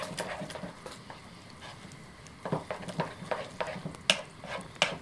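An eggplant mixture is stirred in a bowl, a spoon scraping and clacking in irregular bursts that grow busier toward the end, over a faint background hiss.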